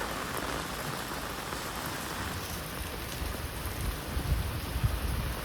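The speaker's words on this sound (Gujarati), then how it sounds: "વરસાદ છે ને ફૂકા કાઢે ઘડીક ધીમો થઈ જાય ને વળી પાછું આવે" Heavy monsoon rain pours steadily onto a shed roof near a lake in Botad, a dense, constant roar with a slight surge in intensity toward the end and no voices.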